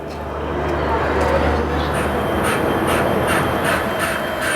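The Garib Rath Express, hauled by a Tatanagar-shed WAP7 electric locomotive, rolls past with a steady rumble and regular clicking of wheels over rail joints, fairly close, while a person speaks over it.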